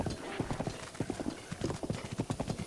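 Horse hooves gallop in The Legend of Zelda: Breath of the Wild, a steady, fast clip-clop rhythm of repeated thuds running throughout, close and prominent with no talking.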